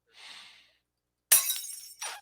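Glass shatters in an animated cartoon as a helicopter turned to glass breaks apart. A soft whoosh comes first, then a loud, bright crash with tinkling debris and a second shorter burst of shards.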